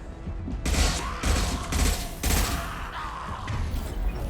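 Impact shot and gunfire in the Mass Effect 2 video game: a string of loud, rapid bursts and heavy thumps in several rhythmic clusters, close and punchy over a noisy combat background.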